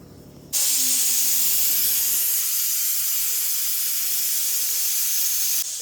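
Pressure cooker on the stove while cooking a togarikalu (fresh field bean) vegetable pulao, letting off a loud, steady steam hiss that holds for about five seconds after a brief lower start.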